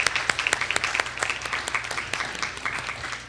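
Audience applause for judges and moderators at a debate finals event, a moderately loud crowd clapping with sharp individual claps standing out, no voices.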